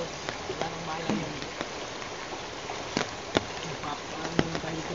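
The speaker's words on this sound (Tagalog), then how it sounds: "Malakas na yung ulan mga lods. Papalakas na yung ulan." Heavy rain growing stronger, a dense steady hiss of downpour with scattered sharp drop hits and thumps throughout, close and enveloping.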